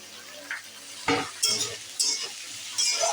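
Vegetables and chopped tomatoes sauté in a pan for a katla fish curry, with bursts of sizzling and clinking stirs from a utensil against the pan, close and moderately loud.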